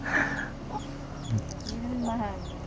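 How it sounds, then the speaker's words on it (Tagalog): Chickens cluck and squawk close by in short calls, with a person talking briefly over them. "Yung mga manok dito, ayan."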